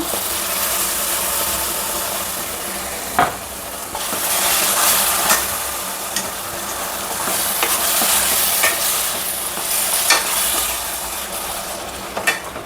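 Tomato puree masala for chana masala frying in hot oil, a loud steady sizzle with scraping stirs and a few sharp utensil knocks on the pan.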